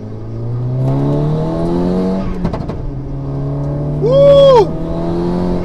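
An Audi S3 engine idles close by, then revs up sharply a couple of times, the pitch climbing and dropping with each burst.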